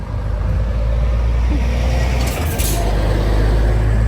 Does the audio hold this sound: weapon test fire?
no